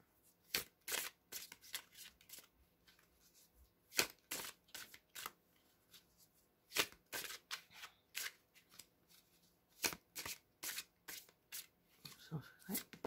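A deck of cards being shuffled at a card reading, in repeated quick riffling bursts with short pauses between, fairly close and clear, with no talking.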